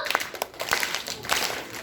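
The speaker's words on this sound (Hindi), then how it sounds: "ठोको ताली ठोको" Scattered hand clapping sounds over talk and background voices on a show stage, a few sharp irregular claps standing out.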